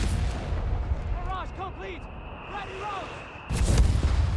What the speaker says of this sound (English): Mortar firing all over the place here.